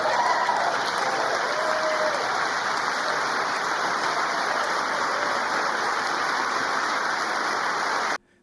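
Sustained audience applause in a large chamber during a presidential address to Congress, a dense, steady roar of many hands clapping that runs unbroken and then stops suddenly.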